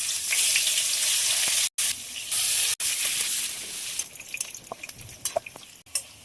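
Onions sizzle in hot oil in a wok while cooking egg curry with yogurt. The frying is a loud, steady hiss that cuts out briefly a few times, and faint clinks come through near the end.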